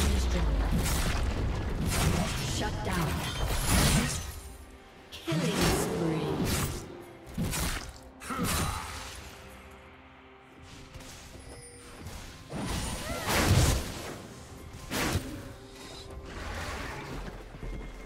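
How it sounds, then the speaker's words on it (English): A turret being destroyed in League of Legends, with deep booms, crashes and whooshing impacts in heavy bursts amid busy game effects. "Red team's turret has been destroyed."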